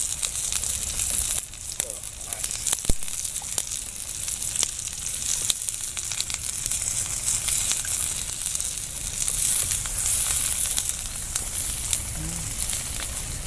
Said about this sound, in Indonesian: Bumbunya kita tumis dulu,